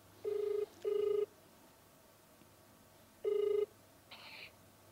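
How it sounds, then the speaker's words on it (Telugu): Outgoing-call ringback tone on a telephone line, three clear electronic ring pulses, two close together then one after a pause, followed by a faint tone at the end over quiet hiss. "సరే ఇప్పుడు అమ్మాయికి కాల్ చేద్దాము"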